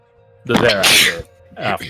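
A single sharp sneeze bursts out nearby, followed a moment later by a shorter vocal sound, against an otherwise quiet room.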